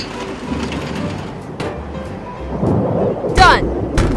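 Rolling thunder from an approaching storm in a cartoon construction scene, a deep rumble that builds and peaks near the end, with faint voices in the background.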